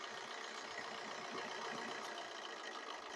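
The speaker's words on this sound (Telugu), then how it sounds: "ఇప్పుడైతే మీకు నేను ఇంజిన్ కూడా స్టార్ట్ చేసి చూపిస్తాను" A 2016 Maruti Suzuki Dzire VDI diesel car idling, its engine a faint, steady low hum with no change in pace throughout.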